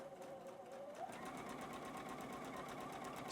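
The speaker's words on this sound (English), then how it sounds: "now we're just gonna sew that little seam super easy." A sewing machine stitches a short seam across quilt fabric with a steady, fast mechanical chatter. It runs close and continuous, with no talking over it.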